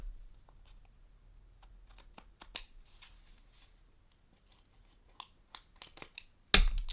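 Scissors snipping through paper to trim a spray-stained craft background, a scattering of quiet crisp cuts followed by a louder close burst of rustling paper near the end.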